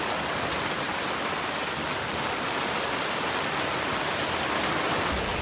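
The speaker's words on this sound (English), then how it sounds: "It is pouring down rain." Torrential rain pouring down on moving day in a dense, constant hiss, loud and close, with no pauses.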